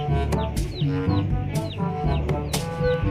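Chickens cluck and call in a busy yard over a dense, steady background of other noise, with repeated short squawks throughout.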